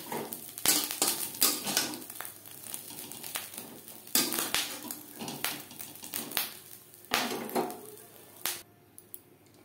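Fried fish roe is scooped from a pan into a bowl, producing a series of close scrapes and metal-on-metal clinks, with irregular knocks and a short crinkle near the end, with no voices.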